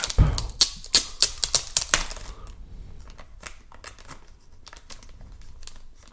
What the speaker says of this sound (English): I'll unwrap the plastic wrap.